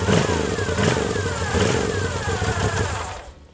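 A Moto Guzzi V-twin motorcycle engine revs loud and close as the throttle is blipped. It gives a sustained rough, throbbing roar that fades out sharply at the end.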